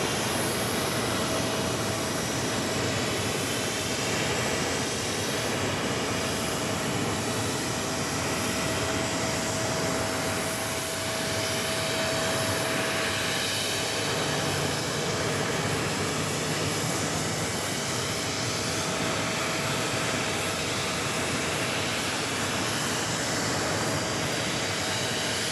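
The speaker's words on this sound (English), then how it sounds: "We got that Air India 777-300ER now pushing it back." Air India Boeing 777-300ER jet pushing back at JFK airport: a steady, loud broadband jet roar with a constant high whine runs unbroken throughout, with no voices over it.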